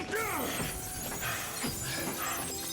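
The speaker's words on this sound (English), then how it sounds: "That was way too much glass shattering for what he just did." Exaggerated glass-shattering effect from a Scorpion King sequel, a loud burst of breaking glass followed by tinkling shards and further crashes amid film soundtrack noise.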